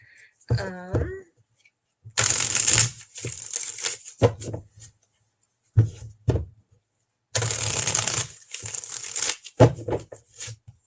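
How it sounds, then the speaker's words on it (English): Cards are shuffled in several bursts of crisp riffling and flicking, separated by pauses, with a brief spoken bit at the start. "Get these all shuffled up here."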